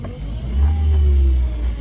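Car engine idling then rising into a brief low rev as the driver puts the car into reverse gear, a close rumbling swell that settles back, no talk.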